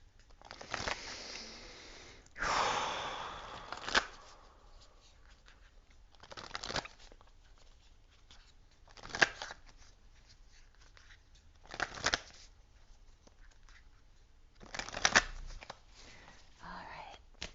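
Wild Unknown tarot cards being shuffled by hand in several separate rustling bursts of riffling card stock, fairly close, with quiet gaps between and faint voice sounds in the background.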